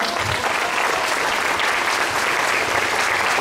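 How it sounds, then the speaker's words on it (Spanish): Strong, dense audience applause at an orchid and crafts expo in Tenango de las Flores, a full crowd clapping steadily at close range throughout. "Dense un aplauso bien fuerte."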